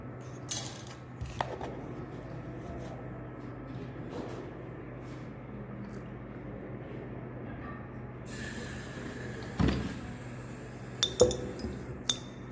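Glassware clinks a few times, sharp and sparse, while carbon dioxide is prepared from sodium carbonate and dilute hydrochloric acid in a round bottom flask, over a low steady hum with no voices.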